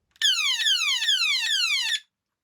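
A vintage Transformers G1 Shockwave toy gives out its switched laser effect: four rapid descending electronic zaps, each sweeping downward and repeating in a steady pulse, loud and close with no voices.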